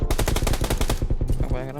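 Rapid automatic gunfire from the PUBG Lite shooter game, a loud, steady burst of evenly spaced shots for over a second before trailing off into a short tonal sound.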